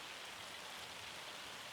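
Dense, even patter of tiny hailstones falling continuously in the video game Farming Simulator 25, a soft hissing rattle with no voices.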